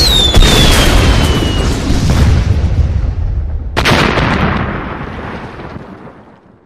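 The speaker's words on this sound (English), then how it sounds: "Recording finally explodes." A sound-effects record bursts in a loud explosion, then a second sharp blast follows, each with a heavy rumbling decay that slowly fades out.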